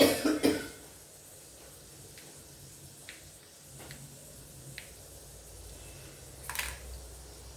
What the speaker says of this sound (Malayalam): ചുമ